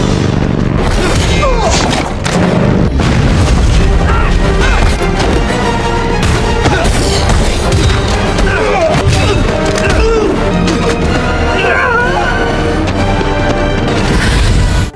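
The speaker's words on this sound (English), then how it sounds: "Captain America skillfully deflected the cannon fire with his shield and successfully destroyed the tank with a missile" Captain America destroys a tank with a missile after deflecting its cannon fire with his shield, setting off heavy, booming explosions and crashes that roll on loudly and almost without pause, layered with dense battle noise.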